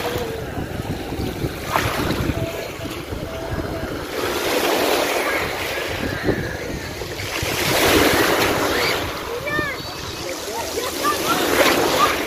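Sea waves at Koktebel, Crimea, wash onto the shore in repeated surges under gusty wind noise, with a few faint voices in the background.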